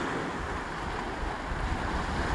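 Stormy sea surf on the shore at Krinitsa on the Black Sea coast, a steady loud roar of breaking waves mixed with wind buffeting the microphone, continuous and unbroken throughout.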